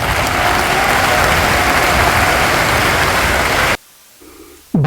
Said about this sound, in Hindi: नहीं, तालियों में मजा नहीं आया,